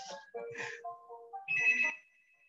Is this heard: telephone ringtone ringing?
yes